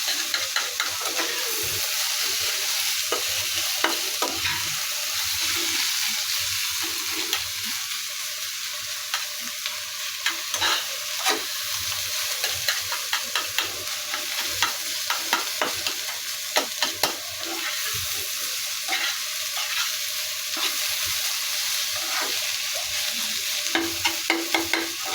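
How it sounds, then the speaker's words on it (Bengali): Snake gourd and egg being stirred in a frying pan: a steady sizzle runs under frequent scraping and clattering strokes of a utensil against the pan, with no talking. "এখন আমি পুরো চিচিঙ্গাগুলো একসাথে মিক্স করে নিব ডিমের সাথে।"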